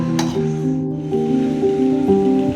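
Crab curry (nandu kuzhambu) with coconut milk simmers in a pot, giving a steady, close squishy bubbling with small drips over a constant low humming tone, no talking.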